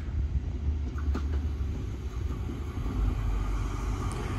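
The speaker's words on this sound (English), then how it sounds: "train now going past is the express train 185" Express train 185 bound for Liverpool rumbles past with a steady low roar and rolling rail noise, loud and continuous throughout, with no voices.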